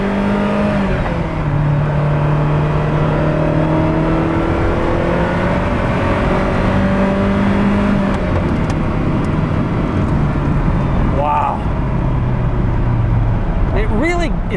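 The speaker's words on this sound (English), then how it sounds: "Accelerating in this car is a joy." A Ferrari F40 supercar accelerates hard, its engine note climbing steadily through the gears, loud and close from start to finish, with a voice talking over it.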